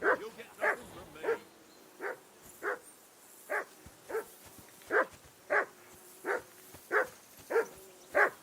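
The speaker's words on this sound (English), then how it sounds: "Whistle at that mutt of yours to stop barking." A dog in Kingdom Come: Deliverance 2 barks repeatedly in a steady run of about a dozen sharp, evenly spaced barks, fairly close and loud, with a faint voice early on.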